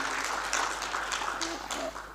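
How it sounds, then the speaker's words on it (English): An audience at an aerospace and defence conference gives a round of applause, a dense, even wash of many hands clapping that fades slightly at the end, with a voice faintly present underneath. "Let's applaud, ladies and gentlemen, for this contribution and his time"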